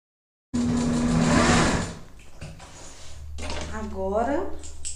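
Sewing machine stitching a double-sided round fabric placemat with ruffle, the needle passing over pins placed sideways; loud steady whirring for about a second and a half, then quieter mechanical hum as someone talks.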